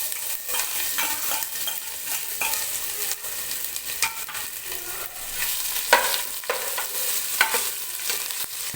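Crushed ginger and garlic go into a pan of chilies frying in hot oil and get stirred, giving a continuous bright sizzle with scraping stir strokes and occasional louder bursts, heard up close with no talking.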